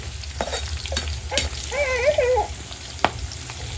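Peanuts, green chilies and curry leaves frying in a pan, a soft crackling sizzle with scattered pops and clicks of stirring, fairly faint, with a brief tonal squeak in the middle.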